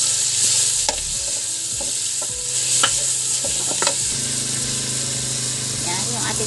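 Onion, ginger and labog sautéing in a pan for tinola with native chicken, a steady hissing sizzle broken by scattered clicks of a utensil against the pan, a voice talking over it.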